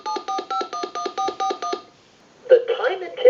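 A rapid series of about ten evenly spaced touch-tone beeps from a TS22 lineman's butt set dialing a recall number, then a short pause before a recorded time-and-temperature voice begins speaking.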